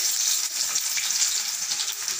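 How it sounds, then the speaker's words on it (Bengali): Nigella seeds, dried chili and onion frying in hot mustard oil in a pan: a bright, even hiss of sizzling with light stirring movements, close and unbroken, and no one speaking. "এর মধ্যে দেবো কালো জিরে, শুকনো লঙ্কা আর পেঁয়াজ"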